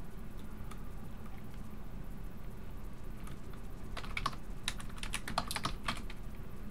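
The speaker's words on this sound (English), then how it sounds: "you'll want to type just basically one sentence" Typing on a computer keyboard, heard as a fast cluster of clicky keystrokes in the second half, fairly close over a steady low background hum.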